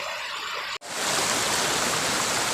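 Steady rushing water of the Pulunan River in Trece Martires, Cavite, flowing over rocks, fills the clip with broadband noise after a brief cut near the start; no voices.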